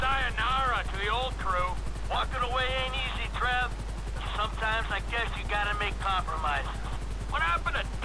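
A helicopter in Grand Theft Auto V gives a steady low rotor drone throughout while someone talks continuously over it.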